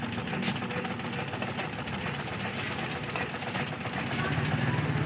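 A sewing machine runs continuously while stitching a test seam after its tension nut has been fully tightened, a steady rapid mechanical chatter at close range throughout with no pauses.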